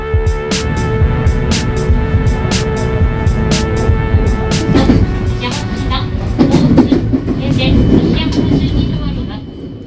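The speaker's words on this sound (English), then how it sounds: "quick 28-minute train ride from Osaka, and we're in the heart of Kyoto" Train ride from Osaka to Kyoto, Japan: loud rolling rumble and rhythmic rail clatter fill the whole stretch, with brief bright clicks on top.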